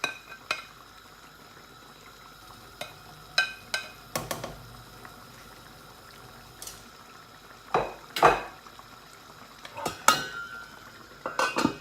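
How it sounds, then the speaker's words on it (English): Sweet and sour pork loin steaks simmer in sauce in a pan, with occasional clinks and scrapes of a utensil against the cookware over a soft bubbling background, heard close and without talk. "And let it simmer in the sauce."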